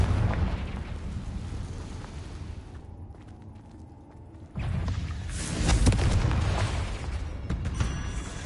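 Deep rumbling magical blast of the Confringo explosive curse in the video game Hogwarts Legacy, a sustained booming roar that drops away, then swells again into a loud, lingering explosion.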